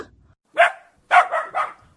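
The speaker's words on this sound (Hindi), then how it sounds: "कुत्ता" A dog barks four times, one sharp bark followed after a pause by three quick barks in a row, close and clear against a quiet background.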